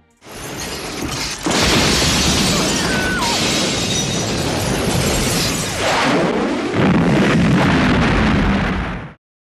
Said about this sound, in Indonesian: layar monitor menampilkan sebuah ledakan di tempat tersebut